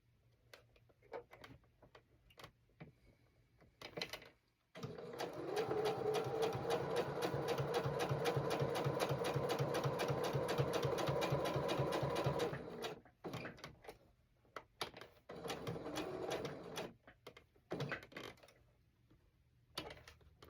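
A sewing machine stitches a zippered pouch in one sustained, even run of rapid needle strokes lasting several seconds, framed by quieter pauses, clicks and handling noises before and after.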